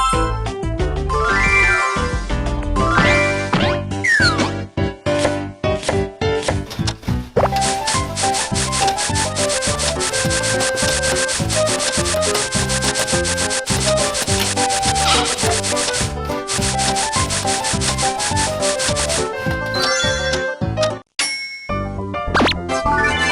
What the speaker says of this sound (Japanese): まずはチーズを削っていきます